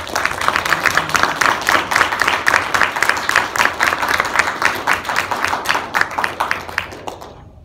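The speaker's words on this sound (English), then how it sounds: "All right, let's give a round of applause for" Audience applause after a closing statement at a mock trial competition: dense, steady clapping from a sizable crowd, loud and sustained, fading out at the end.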